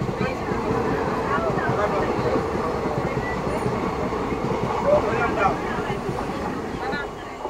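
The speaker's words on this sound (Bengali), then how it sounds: "কাঞ্চনজঙ্ঘা এক্সপ্রেস চলে গেল" The Kanchenjunga Express rolls by at a station in Tripura, its steady rumble and wheel clatter close and continuous.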